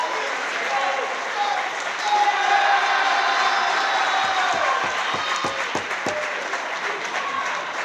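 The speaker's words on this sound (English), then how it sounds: "Let's give him a round of applause." A gym crowd at a Maranatha versus Kuyper high school basketball game on Parents' Day gives steady, fairly loud applause for a senior player, with cheering, a few sharp claps near the end and talk over it.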